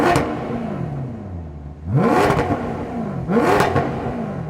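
A Maserati GranTurismo S with its 4.7-litre Ferrari-derived V8 revs in two loud, rising blips with a rough idle in between, heard close and alone.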